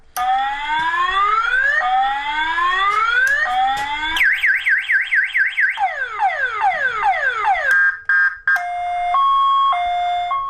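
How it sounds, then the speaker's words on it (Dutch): A string of electronic bicycle siren and horn tones, loud and close: rising wails, rapid warbling sweeps, falling swoops, then stepped two-tone beeps, changing patterns every few seconds with no talking. "En nu ga ik over naar de sirenes."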